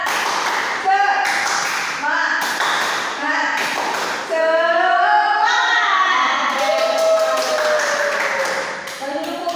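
Pupils in a classroom repeat the 'tepuk semangat' clapping routine, brisk rhythmic hand claps in unison alternating with children chanting and a teacher talking.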